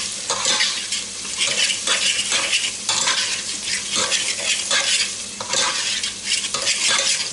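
A medium diced onion fries in a pan, a continuous loud sizzle with repeated scraping stirs every second or so, close up and without any talking.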